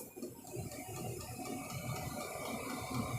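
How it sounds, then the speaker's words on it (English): Steady low mechanical rumble with a faint ticking, whirring texture, a diesel heater running continuously inside a van. "the noise you're hearing is my heater"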